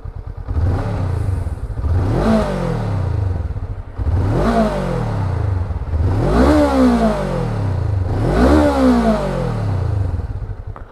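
A Honda NX500 with a two-cylinder engine starts and idles, then revs up sharply four times in a regular pattern, each throttle blip rising and falling back to a loud, close idle.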